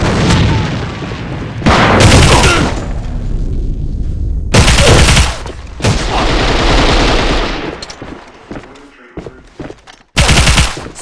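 Rapid gunfire and booming grenade blasts in the online shooter game AVA, loud and nearly continuous with short breaks, while radio-style voice callouts sound over the battle.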